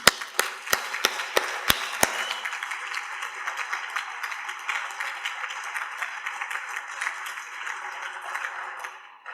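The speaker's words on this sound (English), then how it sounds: "if we could just give Richard and Sandra and the rest of the team a round of applause for a successful conference, please" Conference audience at a No-Till Club farming event breaking into applause, opening with a few sharp, loud claps before swelling into a dense, sustained wash of clapping from many hands that carries on steadily to the end.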